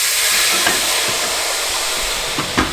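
A steady, loud hiss and sizzle of water poured into a hot pan in an oven while baking sourdough bread, with faint clatters near the end.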